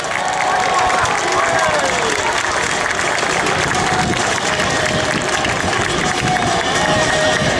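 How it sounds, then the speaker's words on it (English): Continuous applause and crowd noise at a military open house parachute demonstration roll on throughout, loud and broad, with voices mixed into the outdoor cheering. "Let's give a round of applause for the Maryland flag"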